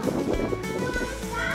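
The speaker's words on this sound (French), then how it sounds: "Alors il y a beaucoup de vent" Strong coastal wind buffeting the microphone at Land's End, a steady low roar with rushing gusts, with faint surf behind and a voice speaking briefly over it.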